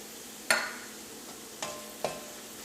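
Turmeric, coriander, chili and pepper powders frying in hot oil, a soft steady sizzle broken by three sharp scraping clinks of a spoon stirring the pan, close and without talk.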